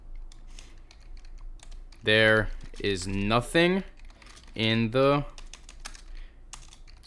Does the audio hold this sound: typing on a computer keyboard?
yes